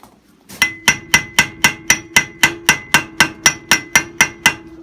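Steady hammer blows forge and upset the head of a door hinge pin on an anvil, about sixteen sharp ringing strikes in an even rhythm, loud and close, with no talking.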